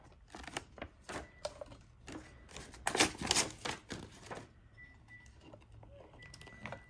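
Vinyl excess being trimmed at the top of a glitter tumbler, a quiet series of short crisp snips and scrapes in an irregular rhythm, close by, with no talking.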